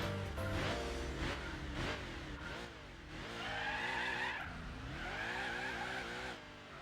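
Tires squealing and skidding as a car slides through a gymkhana course in Gran Turismo 4, with rising and falling engine revs and repeated sweeping screeches, loud and continuous.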